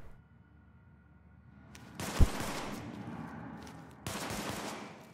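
Pistol fire in The Division, two sharp reports about two seconds apart: a loud crack followed by a reverberant tail, then a second shot, set against a quiet in-game ambience.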